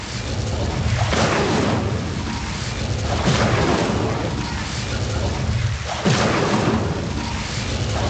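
A fire spell cast in the Hogwarts Legacy video game: broad, rumbling whooshing blasts that roar up in a few surges, with a sharp burst near the end, loud and continuous with no pause between them.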